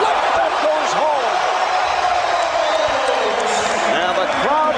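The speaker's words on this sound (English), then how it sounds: "And the crowd responds." Basketball arena crowd roaring and cheering loudly and steadily after Michael Jordan's flip shot at the 2003 NBA All-Star Game, with an announcer talking over the noise throughout.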